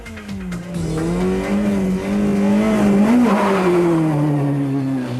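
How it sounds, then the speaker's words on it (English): A normally aspirated, lightweight 2-litre front-wheel-drive rally car races on an Irish tarmac stage at the Donegal International Rally. The engine is close and loud, a sustained drone that rises and dips in pitch as the car pushes for grip. "Yarmo lights up the tarmac as the front wheels of his normally aspirated lightweight 2-litre car grope for grip on the Irish tarmac"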